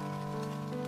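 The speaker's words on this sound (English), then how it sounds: "I could hear the light pattering of rain as it fell onto the tree leaves." Soft steady rain hiss from the video game SeaBed, blended with sustained background music tones, faint and continuous with no voices.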